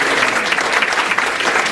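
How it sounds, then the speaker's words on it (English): Full, steady applause from a debate audience, a dense burst of close clapping that holds evenly throughout. "I'd like you to give a special round of applause to these three people who worked very hard to come up with"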